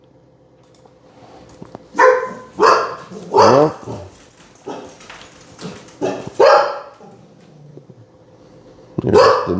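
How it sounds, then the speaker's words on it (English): Several dogs bark in a string of loud, sharp outbursts spread over several seconds, some with growly edges, close by outdoors, with someone speaking briefly between the barks. "the dogs must be a delivery person coming out there"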